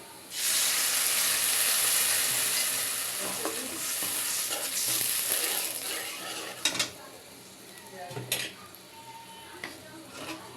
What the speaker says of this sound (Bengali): পেঁয়াজটা আমি ভাজিয়ে নেব এই যে পেঁয়াজটা আমি এইভাবে ভাজিয়ে নিলাম